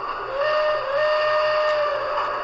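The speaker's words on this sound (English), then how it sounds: "I have a whistle." Lionel battery-powered General toy train sounds its whistle, a steady hissing steam-style tone held for about two seconds, clear and close with no talking.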